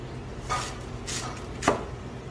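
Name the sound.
knife slicing a Korean radish for naengmyeon kimchi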